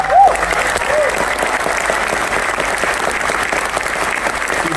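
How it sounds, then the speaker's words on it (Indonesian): A political party rally crowd applauds two party chairmen, a loud, even wash of clapping that fills the whole stretch, with a faint whistle or cheer rising briefly near the start. "saya ingin minta tepuk tangan yang paling meriah kepada dua ketua umum kita"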